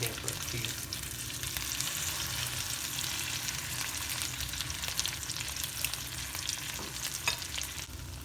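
Chicken shashlik for tandoori-style cooking fries in a pan with a dense, continuous sizzle and crackle, close and fairly loud, with faint scraping of stirring.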